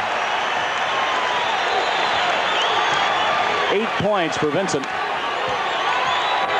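A basketball arena crowd at a 1981 Mavericks vs Sonics game, a steady roar of cheering and applause throughout, with a commentator speaking briefly over it.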